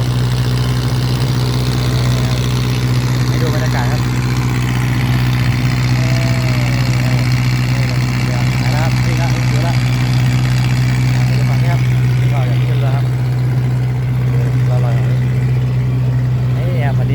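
A heavy river ferry engine drones steadily and loudly throughout as the vessel leaves shore, with someone speaking Thai intermittently over the constant rumble.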